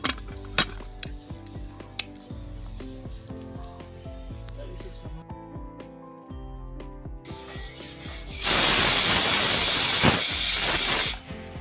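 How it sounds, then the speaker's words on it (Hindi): A pressure cooker with egg curry inside builds up over kitchen clatter and faint hum, then its whistle releases a loud, continuous hiss of steam lasting several seconds before cutting off. "अब ढक्कन बंद करेंगे और फिर से एक सीटी और लगाएंगे इसमें।"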